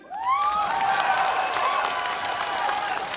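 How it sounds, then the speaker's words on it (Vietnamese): An audience applauds to welcome a male singer on stage at an overseas Vietnamese music show, a sustained wave of clapping with some cheering. Bright tones from stage music or feedback ring over it. "Xin quý vị cho một tràng pháo tay"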